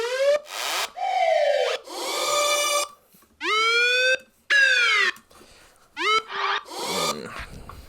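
Dub siren effect from a drum and bass sample pack: a series of loud electronic whoops that sweep up and fall, repeating in separate bursts of varying length, harmonically rich and upfront.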